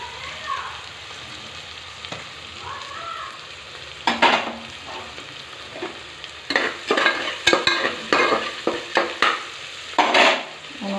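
Dried fenugreek leaves and bay leaves frying in a pan, a soft steady sizzle broken by a run of sharp stirring scrapes and clinks that grow busier toward the end.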